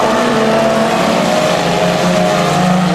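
Four-cylinder race cars pull away at the start of a race at 250 Speedway, a loud, continuous engine roar with rising tonal whines as the field accelerates together.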